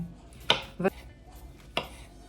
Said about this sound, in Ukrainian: Ріжемо банани кружечками